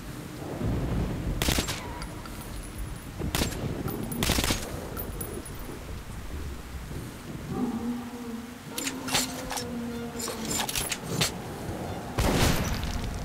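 Gunfire in the Metro: Last Light game, with scattered loud shots and short bursts separated by quieter gaps and other in-game sounds.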